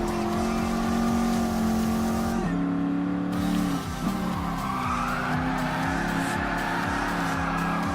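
A classic muscle car in Gran Turismo Sport power-slides through a drift, its engine droning loudly with shifting pitch and tires squealing continuously throughout.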